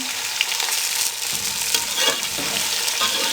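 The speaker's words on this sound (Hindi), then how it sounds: "दो से 3 मिनट इनको मीडियम फ्लेम पे फ्राई करेंगे" Chopped tomatoes and green chilies fry over a medium flame in a pan, a steady close crackling sizzle with stirring scrapes running throughout, no voices.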